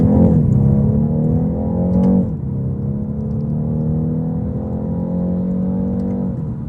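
Four-cylinder engine of a 2025 BMW 430i coupe under light acceleration, heard from inside as a smooth, steady drone that rises in pitch, drops at a gear change and climbs again, close and fairly loud with no speech.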